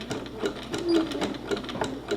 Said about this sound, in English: So I'm going to sew it down with a zigzag.